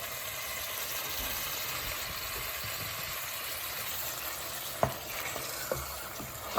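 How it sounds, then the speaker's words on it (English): Chopped tomatoes stirred in a pan with chorizo and butter beans for pasta, a steady low sizzle and scraping churn with a couple of sharp utensil knocks near the end, close and alone. "I'm trying to stir."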